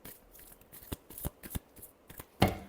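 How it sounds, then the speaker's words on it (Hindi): Tarot cards being shuffled by hand, a run of soft riffling bursts and sharper card snaps ending in one louder final flick, close and quiet with no talking. "Last shuffle."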